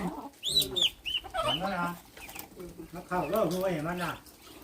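Chickens cluck and squawk up close in several bursts, with rising, wavering calls and brief pauses between them.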